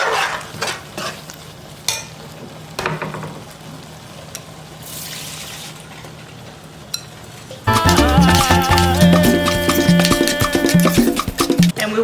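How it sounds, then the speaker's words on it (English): Long grain rice goes into a pot of seasoned black beans and gets stirred, quiet scraping and clinks at first, then a loud, continuous sizzling stir with rhythmic scraping of the spoon. "Now we're going to add our rice."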